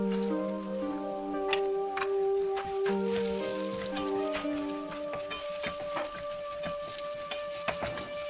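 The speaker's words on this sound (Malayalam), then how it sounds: "ഇനി ഞാൻ ഇതിലേക്ക് 1 ടേബിൾ സ്പൂൺ ഉഴുന്ന് പരിപ്പ് ചേർത്ത് കൊടുക്കുകയാണ്." Crushed garlic and urad dal fry in oil for a tomato chutney, giving a crisp crackling sizzle with scattered pops and clicks, heard close over a sustained background tone.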